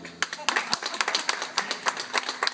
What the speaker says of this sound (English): I had perfect timing and you clapped really nicely